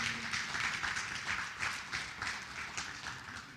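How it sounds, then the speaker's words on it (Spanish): A church congregation claps during a Spanish-language sermon, with a quick, rhythmic pattern of hand claps that holds at a moderate level throughout. "Dale un aplauso al Señor."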